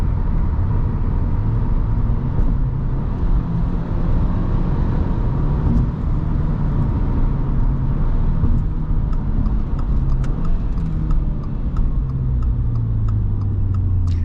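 Tire and road noise fills the cabin of a 2022 Subaru WRX at highway speed as a steady, loud low rumble with a faint engine hum, and no voices.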